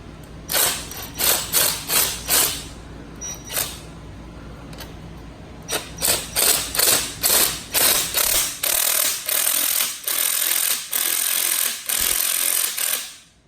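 A ratcheting hand tool or impact driver tightens the bolts of a spring compressor on a Fiat 500 strut during a lowering-spring install: loud repeated bursts of mechanical clatter in two runs, separated by a brief pause.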